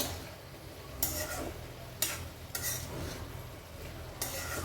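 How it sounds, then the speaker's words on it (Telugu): A pot of amaranth leaves and tomato curry being stirred with a spoon: soft sizzling bubbles under several scraping clatters of metal against the pot, spaced a second or so apart. "నేను ఒకసారి కలుపుదామండి"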